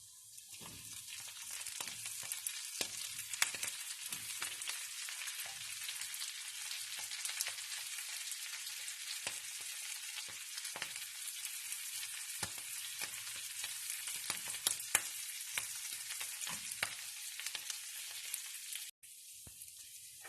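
Brussels sprouts sizzle steadily in a hot pan with cooked onions, a dense, continuous frying crackle with occasional stirring clicks, close and fairly loud, no voices.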